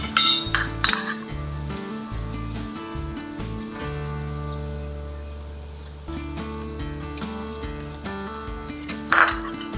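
An aloo palak paratha is flipped on a griddle and brushed with ghee, with clinks and scrapes of a spatula or utensil against metal over a low sizzle, close by and with no talking, as a steady musical tone plays underneath.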